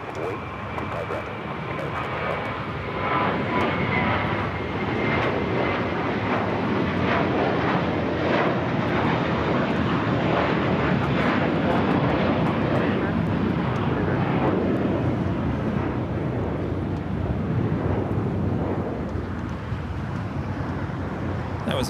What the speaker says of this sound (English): That was American Airlines Flight 4 heading to JFK in the A321